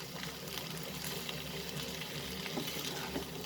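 Chicken and broccoli sautéing in a pan over a medium-high flame for a stir fry, giving a steady, fairly quiet sizzle with faint scraping of stirring throughout.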